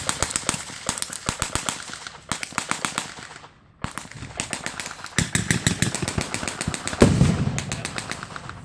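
Rapid bursts of blank gunfire at an outdoor WWII battle re-enactment, sharp cracks in long rattling strings with brief pauses, fairly close and loud, with a heavier thump partway through.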